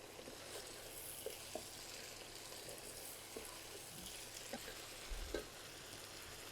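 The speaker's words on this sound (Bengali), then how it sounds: "পেঁয়াজ কুচিটা, এটাও আমি চিকেনের সাথে সুন্দর করে ভেজে নিব।" Chopped onion and ginger garlic paste fry with chicken in a pan, a constant moderate sizzle punctuated by occasional spatula scrapes and taps, with no talking.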